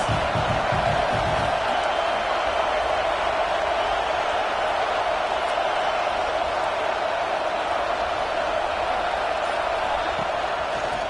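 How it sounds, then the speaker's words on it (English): Stadium crowd at a college football game, a continuous loud roar of massed voices held steady throughout, close and dense with no single voice standing out. "This crowd trying to make life miserable for this offense."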